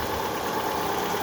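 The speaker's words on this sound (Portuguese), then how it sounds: "funcionamos o motor praticamente quase que sem nada e o barulho ainda insiste" A Fiat Uno Fire engine with its belt covers removed runs close by, holding a steady, even idle with a persistent unusual mechanical noise mixed into its hum. No one speaks.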